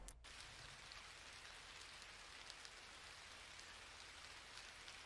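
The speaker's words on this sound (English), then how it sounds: "Lastly, I added some chimes, rain noises" Steady rain falls in a dense, even hiss of drops on a surface, continuous and close, with no voices; a rain sample used in a lo-fi beat made in FL Studio.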